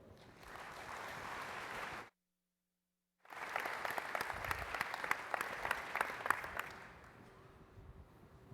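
Audience clapping to welcome new presenters at an industry fabrication competition event, a steady round of applause from a seated crowd, broken by a short silent gap, then resuming with sharper claps before fading out.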